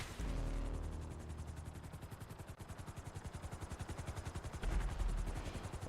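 A helicopter in a video game landing, its rotor chop a fast, steady rhythmic thudding that stays loud and close for several seconds with no voices over it.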